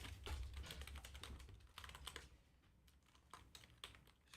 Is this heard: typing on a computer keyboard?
yes